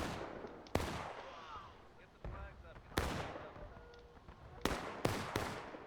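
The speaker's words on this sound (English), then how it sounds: "the pistol shots are big" Sharp pistol shots ring out in a War of Rights multiplayer battle, five or six loud cracks each followed by a decaying echo, with faint voices and battlefield noise between them.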